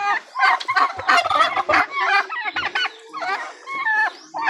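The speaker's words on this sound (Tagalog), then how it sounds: "Palabas na naman yung aking isang inahin pabo." A turkey hen and other turkeys gobble and chatter loudly up close, several overlapping bursts of warbling calls with clucking chickens mixed in.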